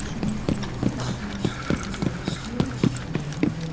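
Enemy footsteps in Rainbow Six Siege, a rhythmic run of thudding steps repeating about every quarter second, fairly close and steady over a low background hum, with no talking.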